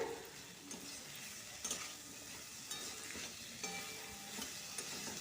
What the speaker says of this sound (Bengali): ছোলার ডালটা দিয়ে দিলাম যে আর খানিক্ষণ কষিয়ে নেব